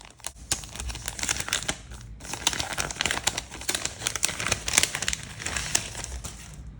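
Packaging of a label sticker pack being opened: continuous close crinkling and rustling of plastic wrap, with a few sharper crackles and a short pause near the middle.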